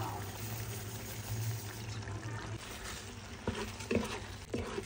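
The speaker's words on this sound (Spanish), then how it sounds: "le vamos a echar el arroz." Dry rice poured into a pan of chicken and vegetables simmered with paprika and reduced wine, giving a steady granular patter over low cooking sizzle, with a few louder scattered taps near the end.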